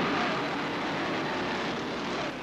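Apache military helicopters hover above a 1.5-mile oval race track at the 1992 Hooters 500, giving a steady, loud, broadband rotor and engine roar that holds evenly throughout without any talk.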